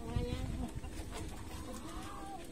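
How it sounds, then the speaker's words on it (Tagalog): Chickens clucking around a simple house used as a storeroom, soft rhythmic clucks and a few higher calls at a moderate distance, faint and steady with no talk. "May mga manok, oh."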